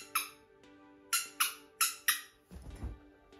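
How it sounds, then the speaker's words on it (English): Squeaky rubber Kong dog toy ball squeezed repeatedly, five sharp close squeaks in an uneven rhythm, followed by a soft rustle. "another toy she loves and is obsessed with is this Kong ball, because it squeaks and it actually mimics the sound of a rodent."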